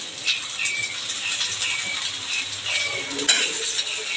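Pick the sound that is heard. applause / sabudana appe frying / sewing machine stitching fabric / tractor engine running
sabudana appe frying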